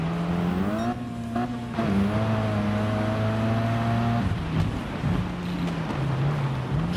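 Toyota race car in Gran Turismo 7 on a dirt track: a loud, steady engine drone whose pitch climbs and drops with gear shifts and revving, continuous for the whole stretch.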